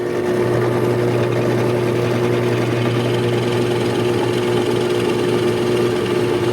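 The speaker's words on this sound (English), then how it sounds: "you let the drill go at its own speed. You don't force it." A steady, loud motorized whine with a constant droning hum runs without a break, an electric drill boring continuously through wood at its own speed.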